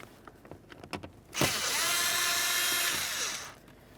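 A powered driver whines steadily for about two seconds, backing a Phillips head screw out of the outer corner of a dash panel on a 2003-2007 Honda Accord. Softer handling clicks come just before it.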